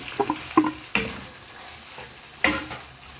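Hotdogs drop into a pan of pork already frying in its own rendered fat, giving a soft sizzle under a few sharp stirring scrapes and clacks, close and moderately loud, with no talking.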